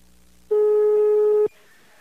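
A telephone line tone during a call sounds as a single loud, steady electronic beep of about one second, with faint background before and after it.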